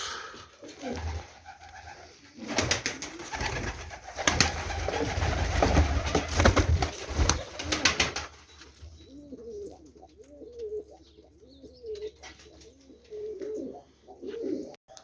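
Pigeons cooing close by, a series of soft rolling coos in the second half, after a stretch of louder rustling and clattering noise.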